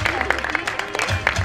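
Applause from an audience at an award ceremony during the Kokan festival, a dense patter of clapping running steadily under a voice speaking over it.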